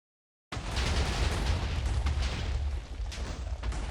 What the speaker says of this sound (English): Why is there so many explosions?